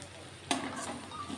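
Tomatoes frying in a pan are stirred once, a single soft scrape and sizzle rising out of a faint, quiet background, brief and close.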